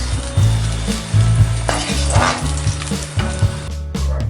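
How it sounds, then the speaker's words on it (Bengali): Potato pieces and soybean chunks fry in hot oil in a pan, a steady close sizzle broken by stirring clatters and scrapes at irregular intervals. "দেখুন আমাদের আলু আর সয়াবিনগুলো ভালো মতো ভাজা হয়ে গিয়েছে"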